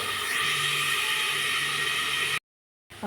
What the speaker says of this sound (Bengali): এখন আমি নাড়াচাড়া করে অল্প সময়ের জন্য ভেজে দিলাম।